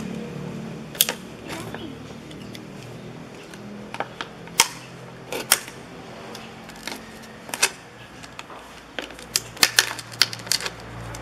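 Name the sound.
knife cutting a plastic bottle for an ant trap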